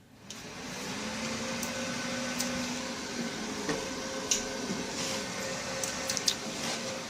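Noisy desktop computer with GTX 1080 and GTX 750 graphics cards running, giving off a steady, even fan whir and hum with a few faint clicks and ticks, alone with no talking.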